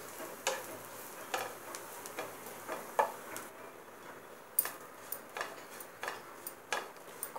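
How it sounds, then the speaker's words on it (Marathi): Dry coconut roasting in a pan for a Malvani prawn masala, heard as quiet, irregular scraping ticks of stirring over a soft sizzle, with no talk. "सुखं खोबरं चांगलं खरपूस भाजून घ्यायचं आहे, दोन्ही खोबरे।"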